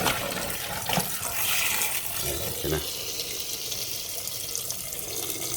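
Tap water runs steadily into a sink while oregano leaves soak, a constant close hiss, with a person speaking briefly over it.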